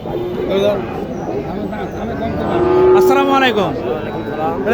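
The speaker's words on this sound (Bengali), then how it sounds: "গরু গরু ধরো গরু" A cow lows with a long, rising and falling moo at a busy village cattle market in Naogaon where Sahiwal and Gir heifers are sold, heard close amid a steady crowd murmur and people talking nearby.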